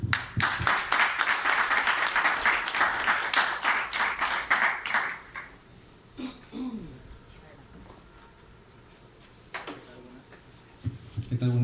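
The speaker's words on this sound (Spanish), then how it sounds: "Para él un fuerte aplauso" An audience at a poetry event commemorating Jorge Luis Borges in Panama applauds with dense clapping for about five seconds, then it fades out, leaving scattered rustles and brief voices.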